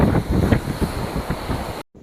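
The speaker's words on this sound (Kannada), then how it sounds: "ಸಿಕ್ಕಾಪಟ್ಟೆ ಅಲೆ ಬರ್ತಾ ಇದೆ, ಸಿಕ್ಕಾಪಟ್ಟೆ ಗಾಳಿ ಬರ್ತಾ ಇದೆ." Strong wind buffets the microphone over big waves breaking on a beach, a continuous loud roar with surging swells for about two seconds before cutting to silence.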